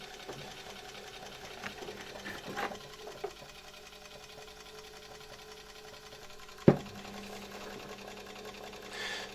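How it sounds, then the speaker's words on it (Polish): A Zelmer vacuum cleaner motor turns very slowly on low voltage from a transformer, giving a faint steady mechanical hum with a few small knocks and one sharp click partway through. "Transformator pracuje, nasz silnik się już bardzo powolutku obraca."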